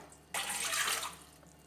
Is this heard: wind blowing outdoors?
no